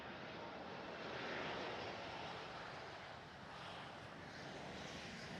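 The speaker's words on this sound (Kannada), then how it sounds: "ಆ ರೋಲ್ಸ್ ರಾಯ್ಸ್ ಇಂಜಿನ್ ಸೌಂಡು ಈ ಫ್ಲೈಟ್ಗಳಲ್ಲಿ ಇರುತ್ತೆ" A loud, steady roar of a Rolls-Royce jet engine on an airliner at a London airport, broad and rumbling, swelling slightly then holding, with no voices over it.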